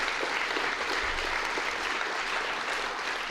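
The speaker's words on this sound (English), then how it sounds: "let's give her a nice round of applause" Steady audience applause fills the room at a university faculty talk, a dense continuous wash of many hands clapping at even loudness throughout, with no voices over it.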